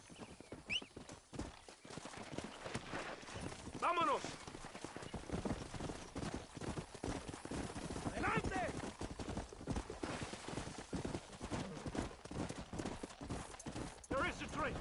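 Horse hooves gallop in a steady clip-clop rhythm in the Western video game Red Dead Redemption, close and continuous beneath shouted commands and a horse's whinny.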